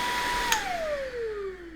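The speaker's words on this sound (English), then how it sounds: "right now the vacuum cleaner is turned on" A vacuum cleaner runs with a steady broad hiss, its motor whine sliding gradually lower in pitch. It sits close and fairly loud, with no voices.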